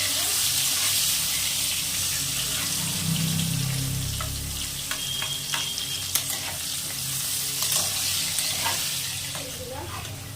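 Potatoes fry in a pan, a steady moderate sizzle with a low rumble early on and scattered crackles and stirring clicks toward the end.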